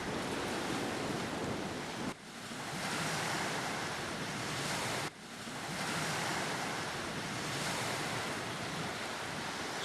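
Ocean waves rolling and breaking onto a Baja beach, a continuous loud wash of surf with wind buffeting the microphone and two brief dips in the roar, no voices.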